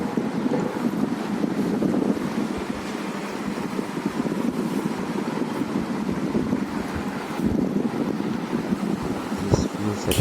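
A vintage British GEC Whispair ceiling fan from the late 1960s or early 1970s runs at full speed, its airflow a steady, rushing, wind-like roar that buffets the microphone without a break.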